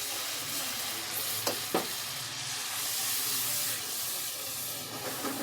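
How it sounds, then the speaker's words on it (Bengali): Spice masala with a splash of water sizzles and hisses steadily in a pan, with a couple of brief stirring scrapes and no talking. "এখন ভালো করে মশলাটা কষিয়ে নিব মশলাটা ভালো করে আমি কষিয়ে নিতেছি"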